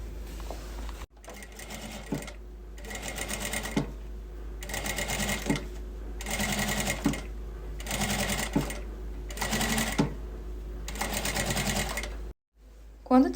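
A sewing machine stitches around fabric for a small candy holder in about six rhythmic bursts of rapid clatter, separated by brief pauses, heard up close.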